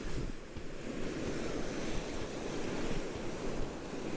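Ocean surf on a Cape Cod beach at night, a steady wash of breaking waves with wind noise, continuous and moderately distant, with no voices.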